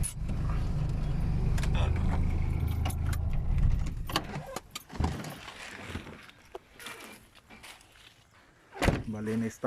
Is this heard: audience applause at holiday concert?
no